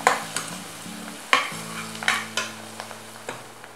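Kuska rice frying in a pot with freshly added coriander and mint, stirred in repeated scraping strokes over a soft steady sizzle, close and without talk.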